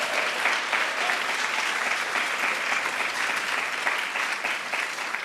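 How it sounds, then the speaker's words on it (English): Dense, sustained applause from a conference audience at a women's health research event, steady crowd clapping at a constant loudness for several seconds with no speech. "Give yourself a round of applause."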